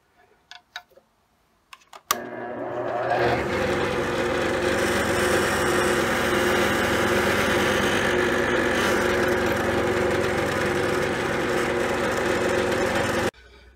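Power drill boring a hole into an LED tombstone lamp holder during a single-end conversion, a steady continuous whine running unbroken for about eleven seconds after a few faint clicks, loud and close with no talk.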